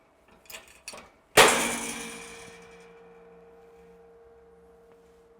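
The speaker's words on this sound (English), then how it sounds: "The whole thing cracked in half." A metal part on a hot rod Studebaker cracks in half while being fitted onto a flange, a single sharp loud crack after a few quiet taps, ringing into a long fading metallic hum.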